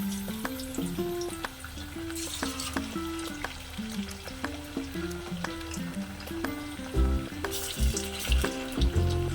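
Fish pieces dropped into hot oil fry with a loud, continuous sizzle and crackle, close up, with occasional clatter as pieces are added one by one; no talking.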